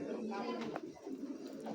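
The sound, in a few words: racing pigeons flapping wings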